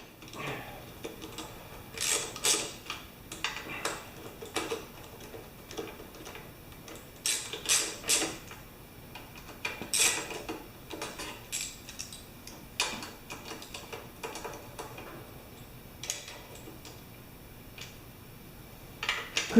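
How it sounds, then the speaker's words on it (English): Valve cover gasket bolts being tightened on a John Deere 180 tractor, giving quiet, irregular mechanical ticks and clicks, close by with brief pauses between them and no talk. "we're tightening up the cover gaskets now. The gasket cover bolts."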